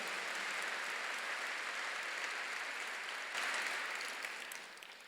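Applause from a church congregation during a sermon, a steady dense wash of many hands clapping throughout, swelling briefly near the end before fading.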